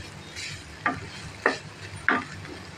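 Chicken filling fries in a pan while a utensil stirs it, making three distinct scraping strokes about half a second apart over a faint, low sizzle.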